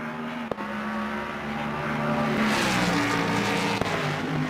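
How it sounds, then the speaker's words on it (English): A race car in Assetto Corsa Competizione, heard from outside the car, holds a steady, loud engine drone that swells as it passes. Two sharp ticks cut in briefly, and a tire-like hiss rises midway. "it kind of sounds like a NASCAR car or something. From the outside"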